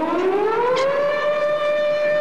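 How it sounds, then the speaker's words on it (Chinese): An air raid siren sounds loud and alone, a single sustained wail rising steadily in pitch and holding throughout. "怎么拉起警报来了？"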